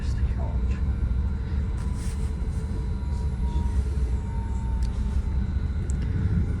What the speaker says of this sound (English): Here we are pulling into Millbrae Station to make our scheduled stop.